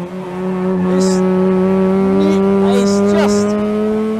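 A TWR Mazda RX7 race car from the 1981 Spa 24 Hours holds a steady, loud engine drone at speed, with brief higher squeals, while someone talks over it throughout.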